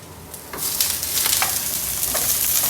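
Vegetables for ratatouille stirred in a hot pan, a steady loud sizzle with scraping strokes of a utensil rising after a quieter start, no talk.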